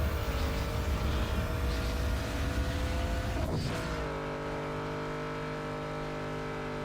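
A car in the racing game Need for Speed Underground 2 accelerates on nitrous boost: a loud, continuous engine roar that sweeps sharply partway through, then settles into a steady, high-pitched drone.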